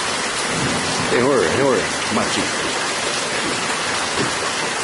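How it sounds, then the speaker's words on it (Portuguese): Heavy, steady rain pouring down in Matinhos during a downpour, a dense hiss throughout, with people talking over it. "Chuva que não acaba mais."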